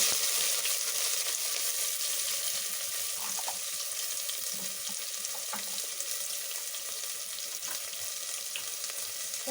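Chopped onion frying in hot oil for sambar, a steady, faint, crackling sizzle that runs unbroken throughout with a few soft stirring clicks.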